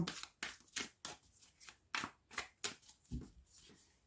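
Tarot cards are shuffled close up in a steady run of about ten brisk, papery bursts over four seconds, with no speech.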